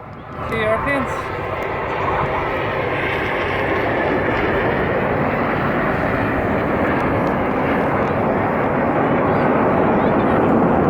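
Red Arrows jets flying a formation display at an air show, a loud continuous roar of jet engines holding steady throughout, with a commentator talking over it.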